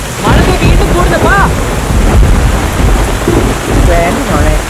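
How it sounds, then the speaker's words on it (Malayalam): Heavy rain pours steadily and loudly, with low rumbling that fits thunder, while people talk over it throughout. "മഴ വീണ്ടും കൂടുന്നപ്പാ"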